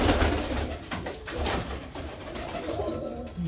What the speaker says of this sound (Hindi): ये कबूतर